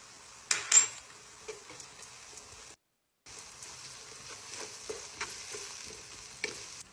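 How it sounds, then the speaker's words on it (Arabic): Onion and garlic fry in oil in a pot, giving a steady soft sizzle with a few clinks of a utensil stirring against the pot and a brief silent gap midway. "في قدر ثاني نحمص البصل والثوم في الزيت"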